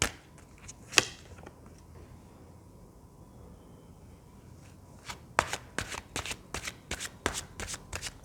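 Tarot cards being shuffled by hand, a few scattered riffles at first, then a quick run of crisp, close snapping shuffles in a steady rhythm.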